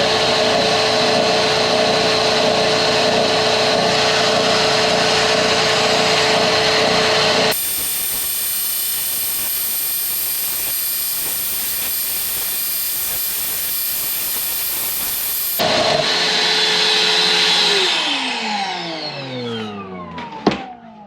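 A Harbor Freight belt sander grinds aluminum with a loud, steady motor hum and abrasive rasp, shifting to a harsher broadband hiss in the middle before the motor spins down.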